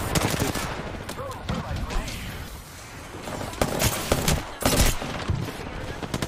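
Gunfire in the video game Apex Legends, rapid bursts of automatic weapon shots and fusillades at close range, loud and dense throughout, with players talking over it.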